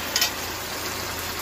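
Chicken curry cooked with little spice in a home village kitchen, stirred in a pot with a short scrape near the start, then a steady soft sizzle and simmer alone.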